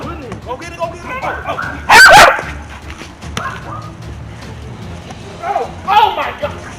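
A small dog barks and yips in short bursts while people play football with it outdoors, with excited shouting and talk around it.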